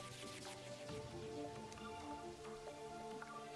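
Steady rain in the video game Terraria, a soft, continuous patter of drops with faint music-like tones underneath, low in level and heard alone.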